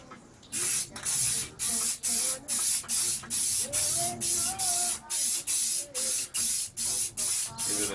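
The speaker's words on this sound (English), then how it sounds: "I've got to spray it with clear. Okay, I've got to clear coat this. So I've got a clear enamel." Clear enamel sprayed from a can onto a 1/24 scale slot car body in short, regular bursts, about a dozen hissing puffs separated by brief pauses, close and fairly loud, with faint background sounds between.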